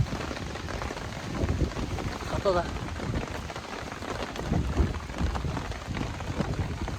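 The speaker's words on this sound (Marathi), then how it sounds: "पाऊस आला पण आता बारीक बारीक" Light rain patters steadily at a campsite near Lonavala, a soft, even wash of drops beneath people talking close by.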